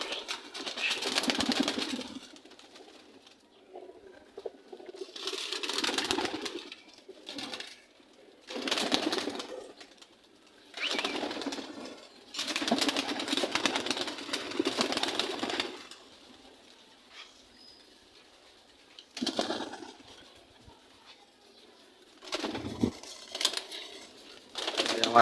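Pigeons outside a home loft, with repeated bursts of flapping wings and scattered coos, separated by quieter gaps.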